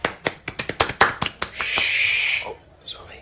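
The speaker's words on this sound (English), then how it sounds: "I guess we shouldn't clap" Several people clap in a quick burst of sharp, close hand claps in a quiet exam room, followed by a brief hiss of something being poured or splattered, then near silence.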